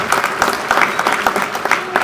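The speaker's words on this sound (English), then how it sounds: "let's give them a big round of applause" An audience at the 2023 IPA Hall of Fame induction claps steadily, a full room of overlapping handclaps sustained close and loud throughout.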